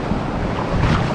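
Sea waves wash around an inflatable mattress being pushed through open water, a rushing, churning splash mixed with strong wind buffeting close to the microphone for just over a second.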